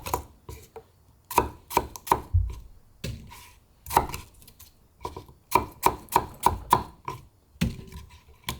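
A knife slices pear on a cutting board for a Korean fruit salad, a run of crisp, close taps and chops in an uneven rhythm, some in quick clusters, with no talk.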